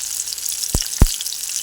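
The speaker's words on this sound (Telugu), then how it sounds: "ఇప్పుడు ఇందులో ఆయిల్ వేడైంది. మనం ఇందులో ఉల్లిగడ్డలు," Sliced onions and green chilies hitting hot oil in a pan, giving a steady high sizzle across the clip with two sharp splattering pops close together near the middle.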